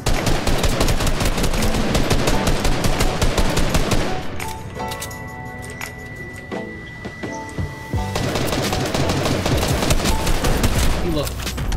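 Rapid volleys of pistol gunfire from a shooter video game, loud and dense bursts of shots, easing into a quieter stretch of scattered game sounds before the heavy shooting resumes.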